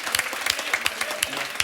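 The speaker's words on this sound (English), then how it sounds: "So please give yourselves a round of applause." A live podcast show audience claps, fairly sparse, separate hand claps standing out in a short, moderately quiet burst.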